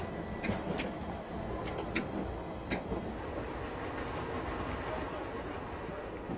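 A London Underground train at Baker Street gives a steady low rumble, with a few sharp metallic clicks and squeals from the wheels or doors rising above it.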